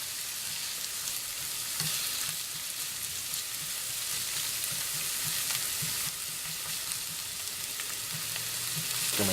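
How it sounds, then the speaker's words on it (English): Onions and garlic fry in olive oil in a pan for a chicken tortilla soup, giving a steady, close sizzle with faint stirring scrapes throughout and no talk. "We are got our onions and our garlic and a little bit of olive oil in the pan here, and we're just going to cook them"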